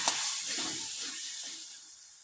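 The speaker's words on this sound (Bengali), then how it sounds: "আলুগুলা লাল করে ভাজা হয়ে গেছে" Potato pieces, salted and tossed in turmeric, fry in hot oil with a bright, steady sizzle that opens loudest and gradually settles into a softer hiss.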